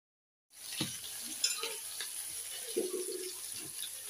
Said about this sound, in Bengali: মাছ ভাজা হয়ে গেল